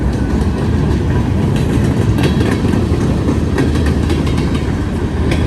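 A freight train with a TTX boxcar rolls past on the rails close by, a loud continuous rumble with steady rattling and faint wheel clicks throughout.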